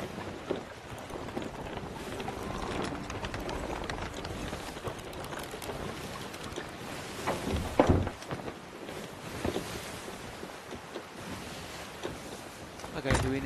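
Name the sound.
wind and waves while sailing a ship in the video game Sea of Thieves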